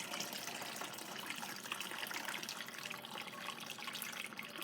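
Pork roast broth poured steadily from a pot, a continuous hissing liquid stream with no pauses, close and moderately loud.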